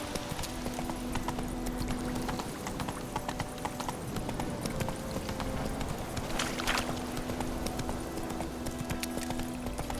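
Roach the horse gallops in Witcher 3, with a continuous rapid drumming of hooves heard close and steady throughout, over a low ambient game background.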